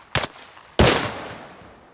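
In Arma Reforger, a sharp gunshot cracks, and a moment later a mine blows up with a heavier blast that trails off in a long rumbling decay. Both are loud and close.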